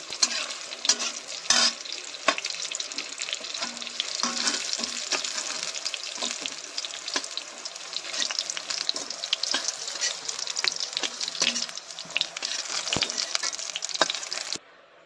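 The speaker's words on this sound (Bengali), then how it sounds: "এবার ওই তেলেই আমি আলুগুলোকে ভেজে নেব" Potatoes frying in oil for a potato and patol curry, a loud continuous sizzle with bursts of crackling and the scrape of stirring, steady across the whole stretch with no speech.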